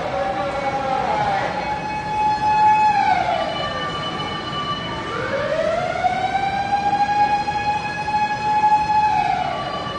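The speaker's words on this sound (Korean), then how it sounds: "막 소방차 오고 있고 구급차 오고 있고," Loud fire engine and ambulance sirens wail continuously at a severe fire, pitch sweeping up and down in long cycles, with a second siren layered beneath.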